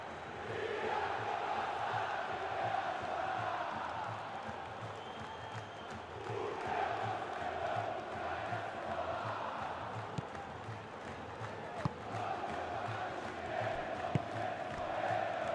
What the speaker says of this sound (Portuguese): a torcida está cantando, a torcida está empolgada